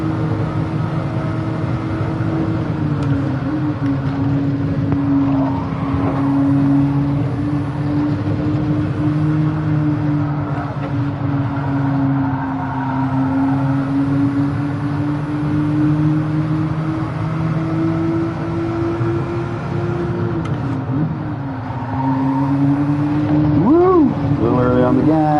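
A car engine holds a steady drone in fourth gear while running laps, pitch drifting gently and rising briefly near the end. It stays loud and continuous, with some talk likely underneath.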